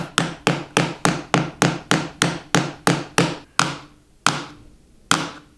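Firm mallet taps around the perimeter of a wooden keepsake box during glue-up assembly, about a dozen sharp knocks in a quick steady rhythm that slows into a few spaced final hits, close and loud with no talk.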